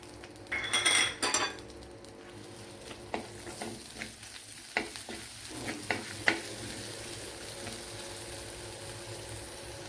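Fried okra with ginger-garlic paste, green chilli and fenugreek sautéing in a pan: a spoon scrapes and clinks against the metal early on, followed by sparser stirring taps over a constant low sizzle.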